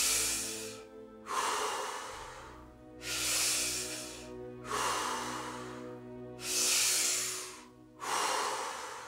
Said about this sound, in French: Inspire à fond et expire.